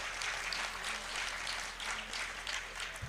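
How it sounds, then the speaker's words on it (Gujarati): Audience at an outdoor religious gathering and group sacred-thread and wedding ceremony applauds steadily for about three seconds, with dense, even clapping and no voices above it. "હજી એક ફેરો તાળી વગાડો જોરદાર"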